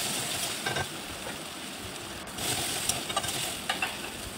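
Onion, ginger and tomato frying in a pan, a quiet steady sizzle with occasional stirring scrapes and soft clatters, no talking.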